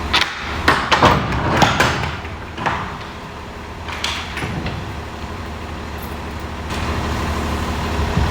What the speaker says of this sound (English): Let me open this other door so I won't lock y'all in here.